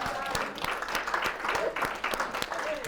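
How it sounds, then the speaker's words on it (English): Audience applause in a room, steady clapping for about three seconds with scattered individual claps standing out and a faint voice underneath. "Give him a round of applause."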